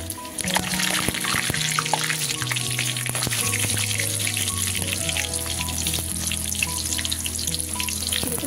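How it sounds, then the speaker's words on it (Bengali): Pointed gourds (potol) dropped into hot oil fry with a loud, dense crackle and popping sizzle that runs steadily throughout, partly under background music. "এবারে পটলগুলো ছেড়ে দেবো তেলের মধ্যে।"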